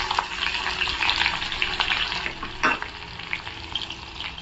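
Chopped garlic and green chillies frying in hot oil in a pan, a steady close sizzle with a brief stirring clatter, no voices.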